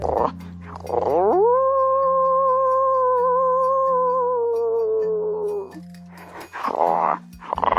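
A long, sustained wolf howl rising then holding steady for several seconds, loud and clear, with brief noisy sounds before and after.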